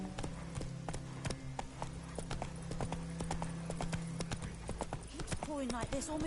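Horse hooves clip-clopping in The Witcher 3, a steady run of sharp, close hoofbeats under continuous talking, with a short neigh near the end.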